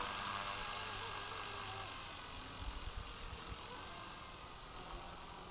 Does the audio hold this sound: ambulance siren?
no